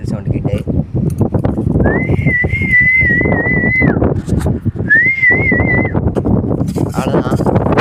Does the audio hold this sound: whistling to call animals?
yes